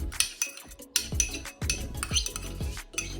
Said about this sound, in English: now we're going to put everything into a bowl and mix it